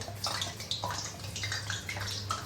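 Banana slices fry in hot coconut oil for chips, giving a steady, close crackling sizzle with a low hum running under it and no talk.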